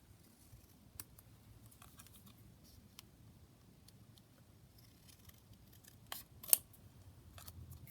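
Scissors snip through book and magazine pages in a few scattered, crisp cuts, with a couple of sharper, louder snips near the end, over a quiet background.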